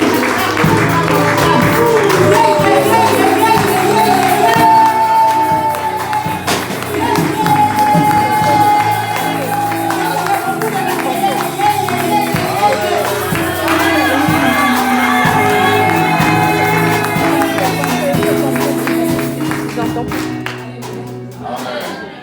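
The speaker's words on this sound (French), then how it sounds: "On acclame pour le Seigneur" A congregation at a women's association gathering acclaims the Lord, a loud, sustained crowd roar of cheering and shouting with some clapping, dense and continuous throughout before thinning out at the very end.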